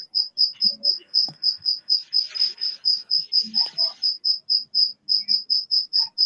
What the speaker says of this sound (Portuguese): tá com um grilo aí na tua casa?